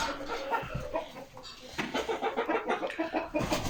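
Chickens clucking close by as they feed and scratch through scattered clover in a farm coop, with soft repeated clucks and rustling, no talk.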